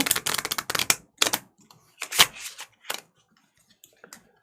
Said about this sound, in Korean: 카드 반 요거 반 해서 또 뒤죽박죽 쳤고요.